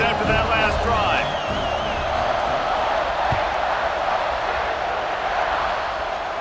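Stadium crowd in the EA Sports College Football 26 video game roars steadily as a dense, sustained wash of cheering under a commentator's voice, with scattered whoops rising above it early on.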